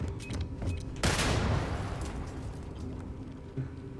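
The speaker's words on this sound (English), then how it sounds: "Or rather landmines." Landmine explosions in the Starfield video game: one loud, sudden blast erupts after a quiet opening, then rumbles and decays over several seconds, followed by a smaller thump near the end.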